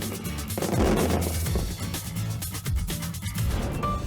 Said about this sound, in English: As night falls, test firing begins. Let's see how this latest batch of fireworks fare.